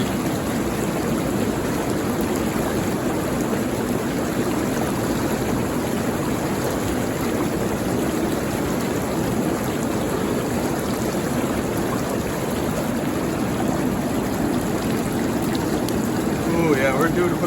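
Water circulates in an inflatable hot tub as a constant, even rush and bubbling churn with no breaks, close and fairly loud.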